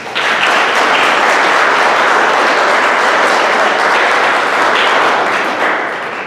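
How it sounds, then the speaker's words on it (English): Loud, dense audience applause at a 7th grade promotion ceremony, sustained clapping filling the room for several seconds before tapering slightly at the end. "Let's give a round of applause for them."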